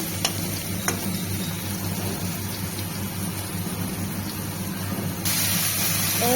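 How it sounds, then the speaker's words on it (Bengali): Eggplant frying in oil in a pan, a steady rain-like sizzle with a couple of light clicks, rising slightly louder near the end, close and without talk. "বেগুনগুলো হালকা করে একটু ভেজে নেব চকচড়ির জন্য"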